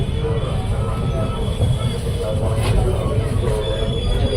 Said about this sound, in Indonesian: ternyata kita di sini bersilang ya sama sesama komuter Merak